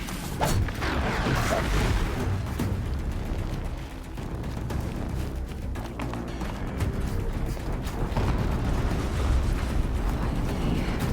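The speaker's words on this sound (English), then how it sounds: "An explosion." Heavy explosions and rumbling blasts in a video game battle against corrupted machines, a loud, continuous barrage with booming peaks and mechanical clatter for several seconds.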